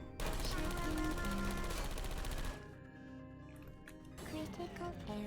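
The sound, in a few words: turret playing music in video game PORGY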